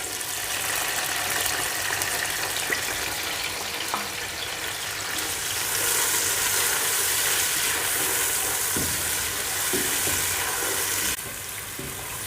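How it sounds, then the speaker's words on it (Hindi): Onions go into hot oil in a pan, and a loud, continuous hiss follows. It holds evenly for several seconds and eases off slightly near the end. "ऑयल गर्म हो चुका है। अब इसके अंदर हम प्याज डालेंगे।"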